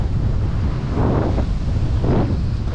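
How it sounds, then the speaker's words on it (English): Strong wind buffeting the microphone on a ski slope at Spirit Mountain in Duluth, Minnesota, a loud constant roar with gusts, with no talk. "It is windy."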